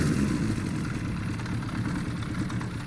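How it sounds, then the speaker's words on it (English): A Honda CB400 cafe racer motorcycle engine idling a little too low, a steady close rumbling idle with a faint light ticking rattle from cam chain slap, heard alone without talk. "You can hear a little bit of like cam chain slap here."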